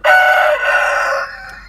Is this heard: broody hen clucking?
yes